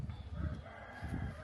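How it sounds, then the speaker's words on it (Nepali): A rooster crows at dawn in rural Sailung, Nepal, its call faint and distant, rising in two swells over a low, steady background hum. "कुखुरा पनि बासिसकेछ"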